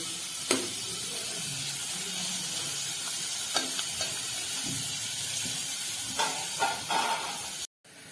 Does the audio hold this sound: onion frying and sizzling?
yes